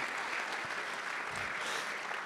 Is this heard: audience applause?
yes